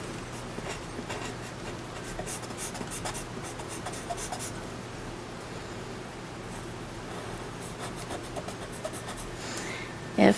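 Pencil or charcoal shading on paper, filling an area completely dark: continuous close scratchy strokes with a steady rubbing rhythm, then a brief louder knock at the end.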